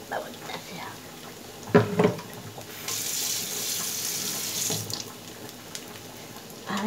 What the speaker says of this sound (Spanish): Voy a echarle más agua.